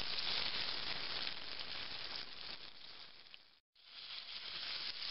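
Bacon sizzles steadily in a pan on a simple outdoor wood stove burner, a close, continuous hiss and crackle that cuts out for a split second before resuming.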